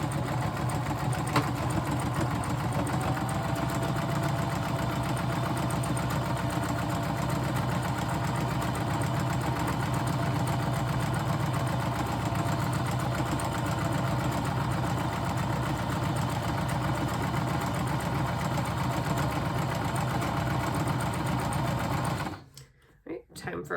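A sewing machine stitches and backstitches in a long, steady, close whir of rapid needle strokes, with talking at times over it, before stopping abruptly near the end.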